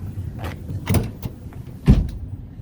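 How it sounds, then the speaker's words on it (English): The power sliding back window of a 2021 Toyota Tacoma SR5 V6 4x4 moves with a few short motor whirs, creaks and soft clunks, close by and fairly quiet. "See that it also has a power sliding back window"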